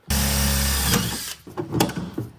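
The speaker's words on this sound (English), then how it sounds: "I'm gonna drill out this center portion right here" A power drill whines loudly and steadily for about a second, then bites into metal with uneven grinding bursts and clatter, drilling out a center section on a Charger being converted to a ute.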